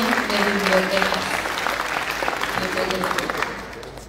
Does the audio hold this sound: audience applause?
yes